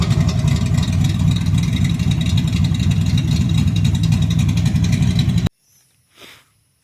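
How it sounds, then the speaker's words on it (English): Foxbody car idling with no muffler, a loud, raw, steady engine drone with a rhythmic throb that runs for over five seconds and then cuts off abruptly, leaving brief faint low noise. "That's what it sounds like missing a muffler."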